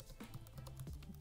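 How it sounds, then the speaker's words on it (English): Faint, rapid typing on a computer keyboard, a quick uneven run of soft key taps heard alone. "typing away, wait for it"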